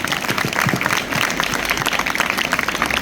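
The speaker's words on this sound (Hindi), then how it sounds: "जोरदार ताली भाई।" Loud, dense applause from a crowd fills a school event honoring dance performers, steady and close for the whole few seconds.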